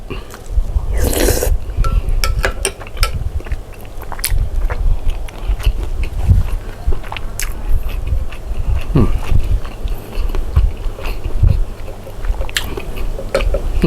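Soft chicken bones from samgyetang, Korean ginseng chicken soup, are chewed up close in a run of wet crunches and bites, irregular and repeated, with brief sharper crackles.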